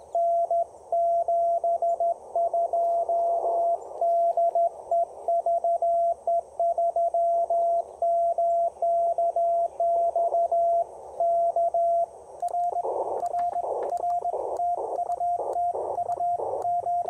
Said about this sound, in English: Listen to that receiver.